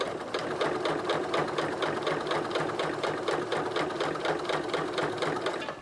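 A Singer 9970 sewing machine with a size 12 universal needle stitches steadily through 32 layers of cotton, its rapid even chatter running loud and close without a break and no talking over it.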